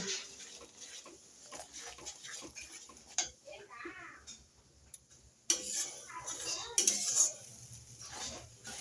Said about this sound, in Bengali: এখন এই সবগুলোকে একসাথে কষিয়ে নেব